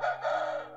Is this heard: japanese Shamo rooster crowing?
yes